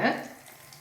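Potato nuggets fry in hot oil in a pan, a short soft sizzle that flares briefly at the start and then settles into a faint steady crackle.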